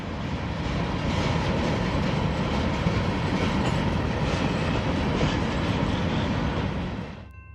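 A heavy freight train of loaded molten-sulfur tank cars and empty covered hoppers rumbles past close by, a loud continuous roar with rhythmic wheel clatter that fades quickly at the end.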